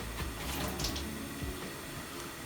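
Water poured into a container holding half a block of tofu, a brief, close trickling splash that runs steadily for a couple of seconds before easing off slightly.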